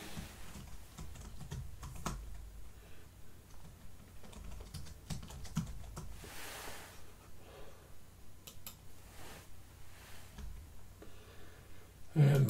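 Steady bursts of typing on a computer keyboard while entering database field definitions, close and fairly quiet, with irregular clattering keystrokes running throughout and no talk.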